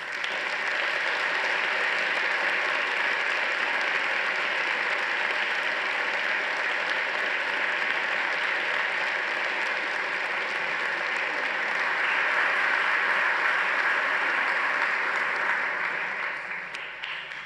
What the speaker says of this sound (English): Please join me in giving these graduates a warm round of applause.